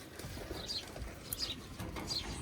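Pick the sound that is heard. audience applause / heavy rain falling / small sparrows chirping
small sparrows chirping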